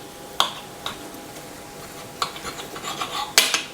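A knife cuts through cheese-stuffed cutlets on a plate, giving several separate sharp scrapes and clicks against the plate, close up, growing busier toward the end, with no talking.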